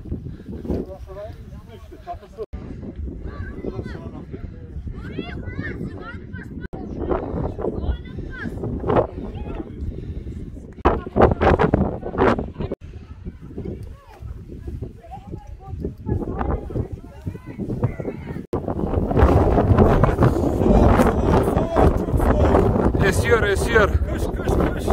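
Wind blows at the Tash Rabat caravanserai in Kyrgyzstan, buffeting the microphone in irregular gusts that swell and grow stronger toward the end, with people talking intermittently throughout.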